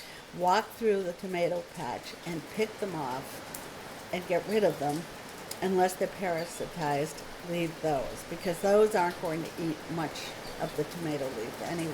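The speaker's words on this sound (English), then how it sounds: "It's really raining outside, everybody, so what you're hearing is the rain outside." Heavy rain pours outside as a steady, soft hiss, running continuously beneath a person talking throughout.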